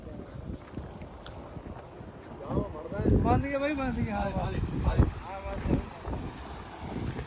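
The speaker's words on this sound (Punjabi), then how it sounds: "ਹਵਾ ਚੱਲ ਪਈ ਆ ਠੰਡੀ ਠੰਡੀ" Cool wind rushes and buffets the microphone outdoors in a pea field in Punjab, a low blustery roar under a voice speaking nearby.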